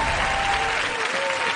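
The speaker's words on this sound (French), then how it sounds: "je pense qu'il mérite de bonne main d'applaudissement" A studio audience at a hypnosis show claps in a full, steady burst, with a faint voice running underneath.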